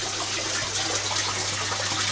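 A Fluval FX5 canister filter runs while water pours steadily into an aquarium, making a continuous broadband rushing and splashing with a low hum underneath, moderately close and without talk.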